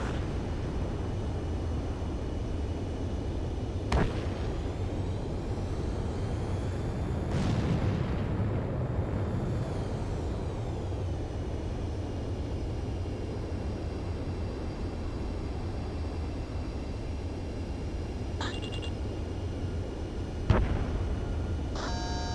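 A steady jet-engine roar fills a combat flight in Ace Combat 7 Skies Unknown, broken by a few sharp missile-launch cracks and booming explosions spread through the stretch.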